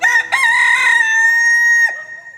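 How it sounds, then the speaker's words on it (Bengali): A rooster gives a single loud, close crow, a drawn-out rising then held call that breaks off sharply at the end. "দূরে একটা মোরগের ডাক শোনা গেল"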